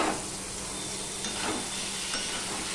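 Potato, pointed gourd and papaya sizzle and hiss steadily in a hot pan while a Bengali vegetarian vegetable dish cooks, with a few brief stirring scrapes and no talk.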